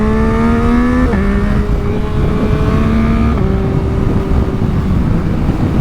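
A 2022 Yamaha MT-09 motorcycle engine running loud and close, a steady droning note that steps in pitch a few times as the revs shift, with no voices.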